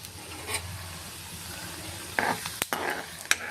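Chana dal, urad dal, mustard seeds and cumin hit hot oil for a curry, giving a steady soft sizzle with a few sharp crackles and pops as the seeds spatter.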